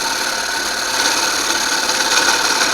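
A gouge on a wood lathe cuts a turning bowl with a steady, continuous hissing and whirring scrape, close and loud, with no talking.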